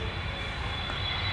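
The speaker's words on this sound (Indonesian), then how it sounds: "Ya, itu suara pesawat." A fixed-wing airplane engine drones steadily at an airport, a continuous loud rumble with a faint high whine, heard alone for a moment.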